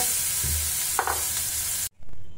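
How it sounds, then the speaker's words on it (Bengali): Cauliflower paste stirred in hot oil in a wok for stuffed cauliflower paratha, with a steady loud sizzle throughout, a couple of brief spoon scrapes midway, and a sudden short cutoff near the end. "আমি ফুলকপির পেস্টটা ওই তেলটা গরম করে ওর ভিতর দিয়ে কিছুক্ষণ নাড়িয়ে চাড়িয়ে নেব"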